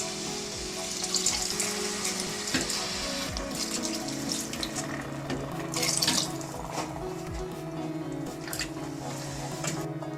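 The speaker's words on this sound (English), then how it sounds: "So now it's time to add water." Water poured from a measuring container into a pan of spinach and black chickpea curry, a steady splashing trickle with occasional louder gushes, continuing close and without talk.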